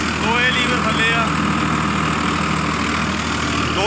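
A Farmtrac 60 EPI tractor pulling an 8-foot Shaktimaan super seeder runs with an even, unstrained engine drone close by, while someone talks over it.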